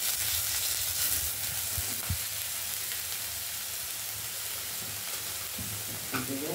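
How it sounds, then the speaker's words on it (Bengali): Grated onion frying in a little oil in a kadai gives a loud, dense, continuous sizzle close up, with a few stirring scrapes and knocks near the end and no voices. "গ্রেট করা পেঁয়াজটা মা দিয়ে দিয়েছে, এবার সেটা তেলে ফ্রাই হচ্ছে।"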